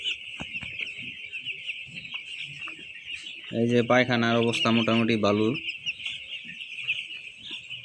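Chickens on a poultry farm cluck and call in a loud burst of harmonic squawks near the middle, over a steady high insect-like drone, while someone talks nearby throughout.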